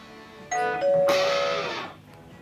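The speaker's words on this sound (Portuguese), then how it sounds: "Você chega aqui tocando campainha, fazendo barulho" A doorbell rings, one bright ding followed by a longer sustained chime that rings out and fades, clear and close with no talking.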